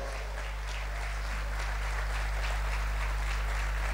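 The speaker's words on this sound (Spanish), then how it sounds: "Merece un aplauso grande de corazón y de todos" A crowd applauds at the opening of the 29th departmental citrus festival in Mocoretá, with steady, distant clapping over a heavy low hum and electrical buzz from the sound system.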